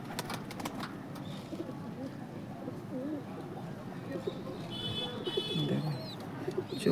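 Teddy pigeons coo in soft, repeated low calls close by, against steady background noise, with a few faint chirps near the end.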